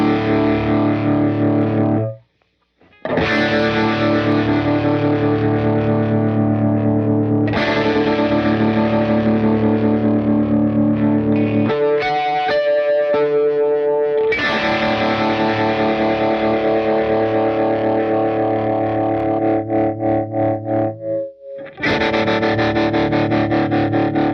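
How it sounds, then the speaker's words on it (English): A guitar runs through a UAFX Astra Modulation Machine tremolo pedal, its loud, sustained chords pulsing rapidly at first and then wobbling more slowly, broken by a few brief gaps. "I like the sound of fast trem going to slow."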